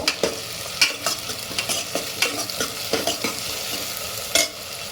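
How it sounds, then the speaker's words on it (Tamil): Onions and other ingredients for radish (mullangi) sambar frying and sizzling in a pan, with a spoon scraping and stirring in repeated uneven strokes close by, and no voices. "இதெல்லாம் ஃப்ரை பண்ணிக்கிறேன். நல்லா ஃப்ரை ஆகட்டும்."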